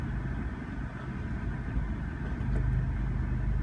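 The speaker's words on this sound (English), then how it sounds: "We just hit the start stop engine button and away we go." An Abarth 124 Spider engine idles steadily just after a keyless push-button start, a continuous low rumble that swells slightly toward the end, close and alone with no talking.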